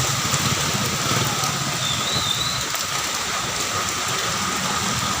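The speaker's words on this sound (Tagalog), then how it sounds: "Napakalakas ng ulan." Heavy monsoon rain in the Philippines pours down in a dense, steady roar with no letup, close and loud throughout.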